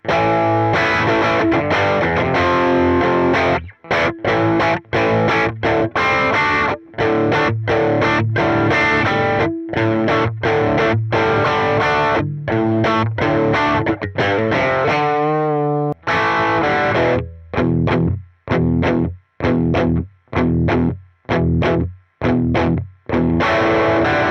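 Loud, gritty distorted electric guitar through a Quad Cortex playing heavy blues riffs, ringing chords that give way to choppy, stabbing hits near the end; no voices.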